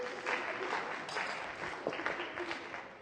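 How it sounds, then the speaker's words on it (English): A live audience claps and applauds for a few seconds in a steady, dense patter that swells slightly toward the end, with no one speaking over it. "Big round of applause for Oakley."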